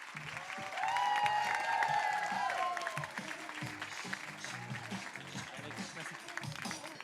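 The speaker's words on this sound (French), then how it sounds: "on fait un tonnerre d'applaudissements pour le suivant, Ellie." Applause at a stand-up comedy open mic night in Lambersart as the next comedian is welcomed, clapping and cheering from the crowd, fairly faint, with a voice and background noise over it.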